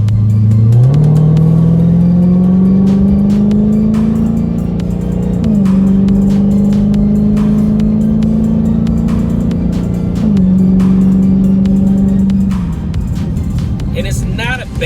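Stock supercharged Dodge Hellcat engine revving, a loud steady drone that rises and holds in three long pulls with brief dips between them, up close, ending with a clatter.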